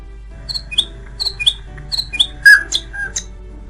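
A nightingale sings a series of sharp, bright whistled notes and chirps, repeated in short phrases against a quiet background.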